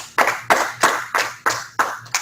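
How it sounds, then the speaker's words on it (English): Seven slow, evenly spaced claps close to the microphone, each a sharp crisp strike fading quickly, more like one person clapping than a crowd, given for presenters at the end of an online cross-cultural language and localization seminar. "Thank you all to presenters. A round of applause from our audience."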